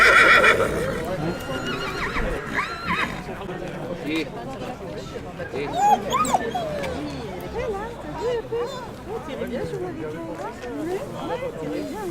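Trait du Nord draft horses whinny repeatedly amid clip-clopping hooves and a murmur of people talking in the background at a foal show in Boeschèpe, lively and fairly close.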